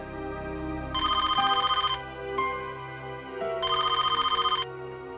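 A telephone rings in two long electronic bursts separated by a pause, fairly loud over a low steady background hum.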